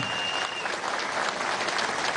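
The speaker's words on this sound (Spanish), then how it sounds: "un aplauso a los milicianos" A crowd applauds the workers' militia at a political event at the Sidor steelworks in Venezuela, a dense, continuous clapping that is fairly close and steady with no talk.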